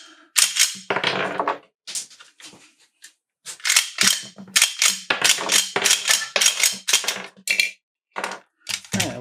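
A Ruger P90 .45 ACP pistol is cycled by hand with dummy rounds, making a series of sharp, close metallic clacks and racking snaps in irregular bursts throughout.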